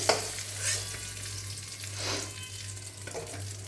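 Pointed gourd (potol) frying in hot oil in a scorched wok, a close, steady sizzle with a few louder stirring scrapes and spatula movements, no voices.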